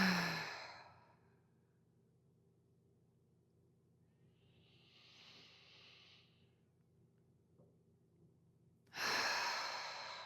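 Deep breathing during a guided breathing exercise: a loud exhale fading out, a quiet pause, a soft drawn-in breath, then another strong breath starting near the end, close and with no talk.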